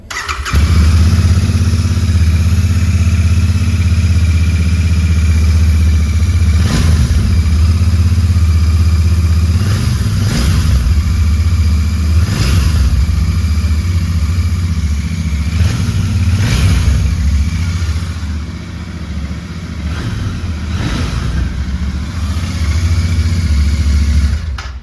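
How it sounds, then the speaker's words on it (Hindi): A 2024 Royal Enfield Continental GT 650 twin-cylinder motorcycle engine runs loudly and steadily up close, with a deep throbbing rumble and several sharp revs rising over the idle. "ट्विन सिलेंडर इंजन है, साउंड अच्छा खासा आपको मिलेगा, अच्छा रोर है इसके इंजन में।"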